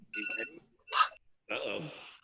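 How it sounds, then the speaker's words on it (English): Shrill phone ringtone sounding in short bursts, about three separate chirping rings with gaps between them, fairly close and clear. "Someone's ringing."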